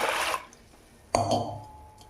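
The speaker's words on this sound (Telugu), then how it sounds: "దీంట్లో ఒక కప్పుకి నేను రెండు కప్పులు వాటర్ పోసుకుంటున్నాను" Two short bursts of water splash and pour onto lentils in a pot, separated by a quiet pause, close and clear.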